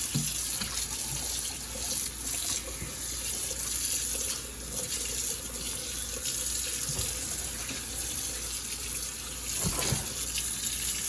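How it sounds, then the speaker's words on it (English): A kitchen sink tap runs steadily while a cured brisket is rinsed under it, a constant close gush of water with small splashing shifts, no talking. "Then take my sink and I'm gonna wash the brisket off."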